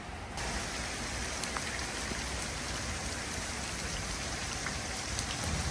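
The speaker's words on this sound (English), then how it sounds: "it just had to start raining" Steady rain falls on a surface outdoors during work on a lowered Chevrolet Tahoe, a dense even hiss that holds unchanged and close for the whole stretch, with no voices.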